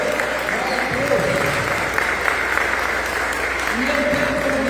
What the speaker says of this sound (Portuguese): Uma salva de palmas de Deus, amém, irmãos?